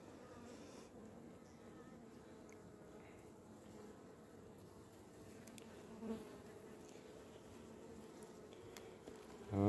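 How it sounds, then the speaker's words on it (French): Honey bees buzz at an open beehive during a frame inspection, a faint, continuous low hum with occasional close passes, steady throughout. "les abeilles sont propres"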